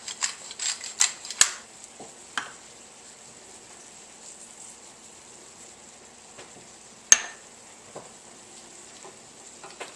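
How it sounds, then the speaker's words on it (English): Mushroom Marsala wine sauce simmering in a pan, a steady faint sizzling hiss with light crackles and a few sharp taps of utensil against the pan, close up. "we're going to let this simmer for a few more seconds while we get ready to plate"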